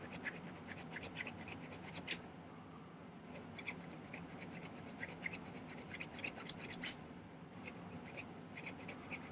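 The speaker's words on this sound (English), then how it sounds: "Filing off some excess solder on the inside." Excess solder being filed from the inside of a pierced amethyst ring, a steady close rasping of repeated file strokes that runs throughout with short pauses.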